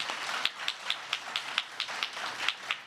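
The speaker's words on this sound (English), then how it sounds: "Give them all a round of applause, will you?" A crowd applauds the people who welcome new Americans, with light, rapid, fairly faint clapping and sharp periodic claps standing out in an even rhythm throughout.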